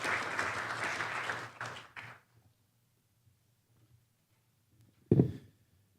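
Audience applause welcomes a keynote speaker at an air pollution and health lecture: about two seconds of dense clapping that dies away into near silence, then a brief thump later.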